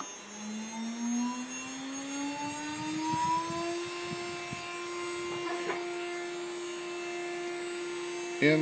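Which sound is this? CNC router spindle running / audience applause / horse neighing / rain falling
CNC router spindle running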